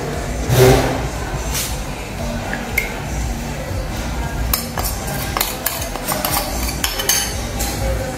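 Metal pot and utensils clatter and clink in a kitchen, with scattered sharp knocks and scrapes over a low background hum.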